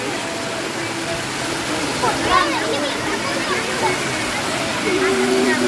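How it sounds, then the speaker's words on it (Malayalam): A water wheel aerator churns a pond at the Mango Meadows agricultural theme park, giving a steady rush of splashing water throughout, with talk over it. "വെള്ളത്തിൽ ഓക്സിജൻ അളവ് കൺട്രോൾ ചെയ്യാൻ വേണ്ടിയിട്ടാണ് നമ്മുടെ വാട്ടർ വേലിയിട്ട് വെച്ചിരിക്കുന്നത്"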